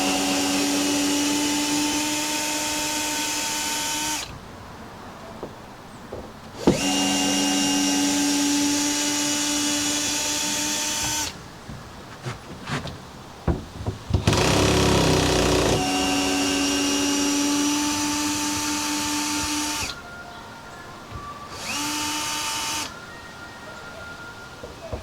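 A power screwdriver whirs in loud bursts while pulling screws out of a van's interior fittings, several long whining runs separated by pauses with clicks and clunks of handling.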